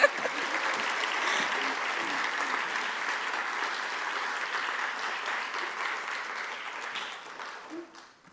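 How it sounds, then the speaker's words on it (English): An audience applauds as guests are welcomed onto the stage at an arts panel talk, with steady, even clapping for about eight seconds before it tapers off at the end. "Y'all should clap."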